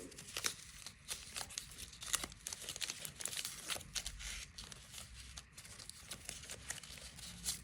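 Close, busy crinkling of a plastic collectible packet handled by hand, with irregular rustles and crackles running steadily through the whole stretch, with no talk.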